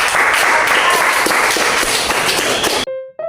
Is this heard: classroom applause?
yes